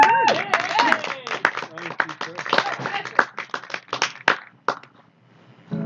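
Concert audience applause for a fiddler, a lively burst of clapping with a voice briefly heard over it at the start, thinning into scattered claps and tapering off.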